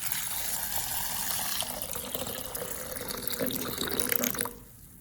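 Warm water poured from a tap over sliced bitter melon in a bowl, a steady close splashing rush that stops abruptly near the end.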